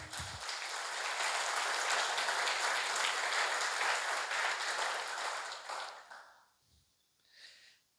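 A church congregation applauds with a full, even wash of clapping that holds for about five seconds before fading quickly, followed by near silence and a faint trailing sound.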